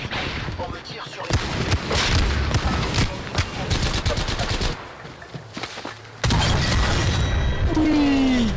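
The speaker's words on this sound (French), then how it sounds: "On me tire sur" Rapid automatic gunfire bursts in an Apex Legends battle royale match, loud and dense with repeated volleys and a brief lull before heavy fire resumes, with faint voices underneath.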